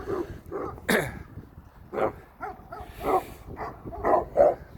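A dog barks repeatedly outdoors in short, sharp, irregular yelps and bow-wows, moderately close, with a brief word of speech near the start.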